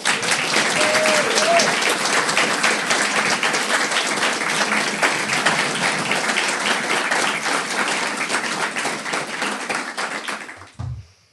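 Audience at a lecture gives a long, loud round of clapping to welcome Dr. Hoppe, steady and dense for about ten seconds before fading quickly, with a short low thump as it ends.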